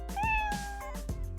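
A cat meows several times in quick succession, close and fairly loud with rising, whiny tones, set in a cartoon scene with no talk over it.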